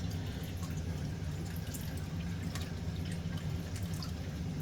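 Water poured into a pot holding two bowls of rice while cooking at home, a steady continuous wash of liquid with faint drips, close by and alone with no talking.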